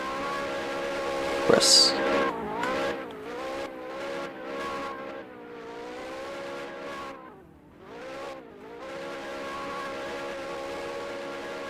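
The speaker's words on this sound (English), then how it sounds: "His Ferrari now doing a couple donuts." A Ferrari race car spins donuts at Utah Motorsports Campus, its engine wailing and rising and falling in pitch continuously for seconds, loud and close, with a sharp burst of tire noise early on and a single word spoken briefly.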